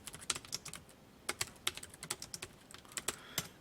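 Computer keyboard keys pressed in quick irregular bursts, crisp clicky taps close up, with short pauses between runs of typing and no voices.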